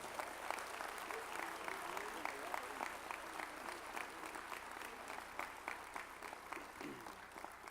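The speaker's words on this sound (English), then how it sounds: "How about a nice round of applause from Fulton High School, Keandra McKinney." A crowd at a high school sports hall of fame induction ceremony applauds for an inductee, steady sustained clapping heard from a distance, fairly faint, continuing for several seconds.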